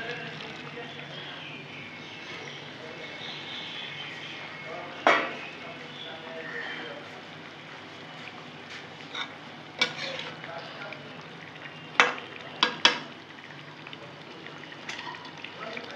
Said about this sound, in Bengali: আমার ফুটে গেছে, এখন ডিমগুলো যে ভেজে রেখেছি সেগুলো দিয়ে দেবো।